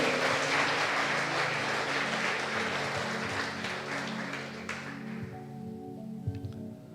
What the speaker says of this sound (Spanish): ¿Qué tal si le damos un aplauso a Cristo?